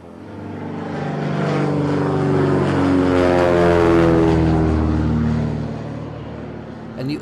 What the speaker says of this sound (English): the overhead sounds of float planes is not uncommon during the fishing season